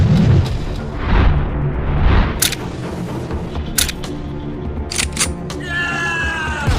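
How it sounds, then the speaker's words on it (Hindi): A blasting gun fires in an animated story, sending out a series of sharp booming shots and cracks mixed with background action noise. "फातिमा ब्लास्टिंग गन से फायर करने लगती है"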